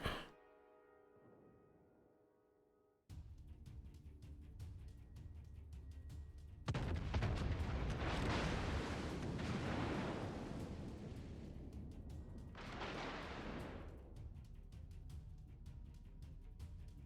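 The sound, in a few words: Des Moines warship guns firing in World of Warships video game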